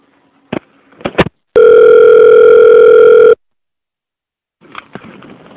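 A telephone dial tone sounds loud and steady for about two seconds after a receiver is hung up. A few sharp handset clunks come just before it, and faint rustling follows once it stops.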